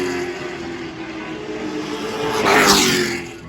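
Race cars at a motor racing track roar past in a continuous, loud blur of engine noise, building to a closer pass near the end before fading slightly.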